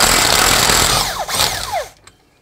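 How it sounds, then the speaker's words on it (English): A power tool, probably an impact gun, whirs loudly for about two seconds as it undoes the nut on a Mercedes/Dodge Sprinter rear differential yoke, with rising and falling pitch sweeps before stopping abruptly. "I'm gonna undo this nut."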